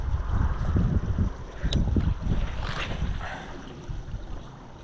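Wind gusting and buffeting the microphone while fishing from a small boat on the water, a steady rumbling roar that swells loudly in the first few seconds, then eases slightly, with no talking.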